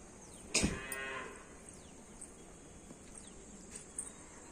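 A single loud cow moo rings out near the start, then fades into quiet outdoor evening ambience with light drizzle and a few faint knocks near a market street.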